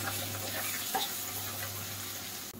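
Finely chopped onion frying in hot oil while upma is cooked, a steady close sizzle with a low constant hum beneath and a brief clatter near the end.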